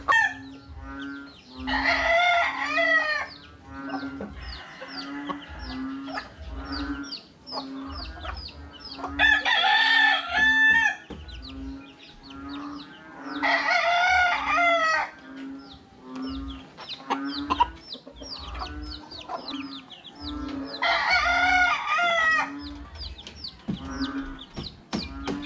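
Chickens cluck steadily nearby on a farm while roosters crow loudly in several long bursts, some overlapping, over a continuous rhythmic low pulsing in the background.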